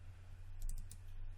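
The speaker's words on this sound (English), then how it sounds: "We'll hit Q on a keyboard, take that middle one" Computer keyboard keys pressed during 3D modeling work in Maya 2017, heard as a few quiet, quick clicks over a steady low hum with no talking.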